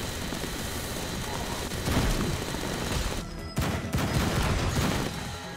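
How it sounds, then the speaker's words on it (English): Sustained, dense automatic fire from a minigun in the video game Madness: Project Nexus, a loud continuous roar of rapid shots with a brief pause in the middle before firing resumes. "I can just fire so many bullets, I won't need to worry about hitting my target!"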